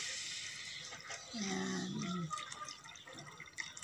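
Water is poured into a cooking pot in a home kitchen, a short splashing gush heard at close range, with a brief spoken word and faint kitchen background.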